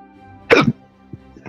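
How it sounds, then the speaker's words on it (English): A man's hiccups, one sharp strong gulp near the start followed by two smaller, quieter catches, close and short, with no talk over them. "It's just hiccups."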